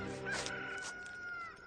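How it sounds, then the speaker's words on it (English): A rooster crows once in a dramatized Bible reading, a brief, clear, strained call that holds one sustained note, fairly close and alone, with no talk over it. "And he went out on the porch, and a rooster crowed."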